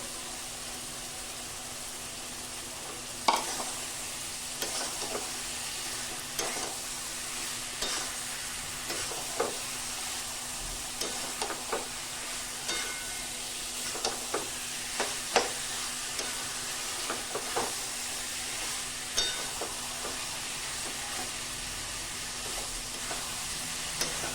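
Pointed gourd that was fried earlier and prawns are stir-fried together in a spiced masala paste, with a steady close sizzle and repeated scraping, stirring clicks of a spatula against the pan, and no talk.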